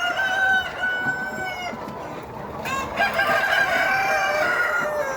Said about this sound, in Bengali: 1900 মুরগি আছে